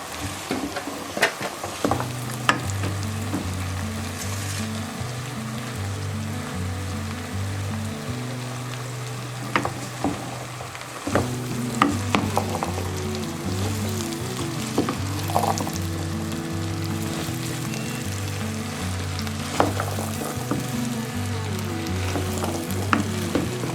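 Sliced okra (bhindi) frying in oil on a stove, a dense steady sizzle with repeated stirring scrapes and clatters throughout, growing busier partway, no talking.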